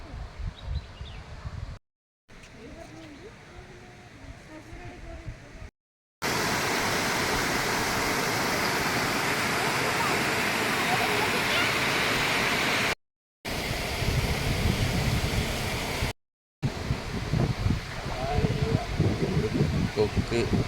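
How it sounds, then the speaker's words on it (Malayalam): A waterfall at the Arippara small hydro project near Anakampoyil roars as loud, steady rushing water, broken by a few brief cuts. "ഇത്ര കാലം കണ്ടിട്ടുള്ള വെള്ളച്ചാട്ടത്തിനേക്കാളും ഏറ്റവും ടോപ്പ് ഇതാണ്."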